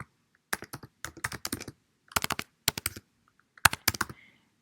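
Fingers tap a computer keyboard in short, quiet bursts of clicky keystrokes separated by pauses, close and isolated.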